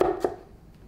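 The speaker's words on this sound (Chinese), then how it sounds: "蒜切末" A knife mincing garlic on a cutting board, with two crisp, close chops in quick succession followed by a fainter third tap.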